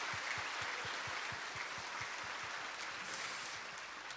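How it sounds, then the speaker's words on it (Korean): A church congregation giving a round of thanks applause during a family Sunday service, moderately distant clapping, steady and fairly even for a few seconds before easing slightly. "우리 찬양대도 다 우리 모든 감사의 박수를 한 번 더 쳤으면 좋겠습니다"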